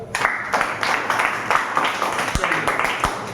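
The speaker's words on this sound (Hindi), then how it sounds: "वेरी गुड, तालियां बजा दो" Students in a class clapping their hands, a loose series of sharp claps with irregular rhythm, close by, with voices talking and cheering over them.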